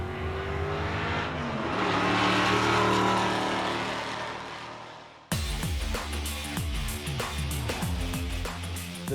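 A carbureted retro-styled race car with no electric fuel pump revs hard, a rising and falling engine roar that cuts abruptly into rapid, sharp blips and revving near the listener, loud and without talk.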